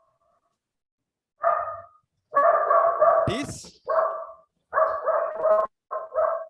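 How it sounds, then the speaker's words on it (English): A little dog barks and yips in several short bursts of varying length, close to the microphone, interrupting a person who speaks briefly over it during an online class session. "I'm sorry, there's a little doggy."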